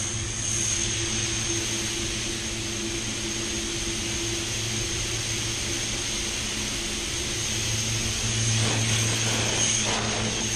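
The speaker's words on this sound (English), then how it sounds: "If you haven't used one of these blowers before, they are great." An air blower dries base coat paint on a Tesla, giving a steady, loud whooshing roar with a constant hum that runs unbroken throughout, close by.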